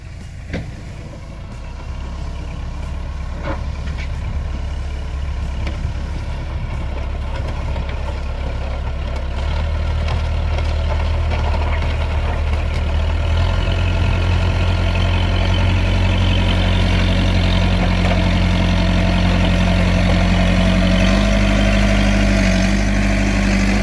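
Heavy diesel engines of a gravel truck and a road grader working on a rural dirt road, a loud continuous low idling rumble that deepens and shifts pitch midway as machines rev, heard close with no voices.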